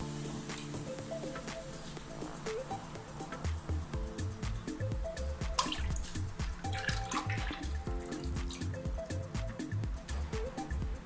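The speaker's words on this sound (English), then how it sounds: "Now I'm going to add the milk, fat milk." Full-fat milk is poured into a pot of homemade mushroom soup. A soft, continuous liquid splash and trickle runs throughout with a low background rumble, and nobody speaks.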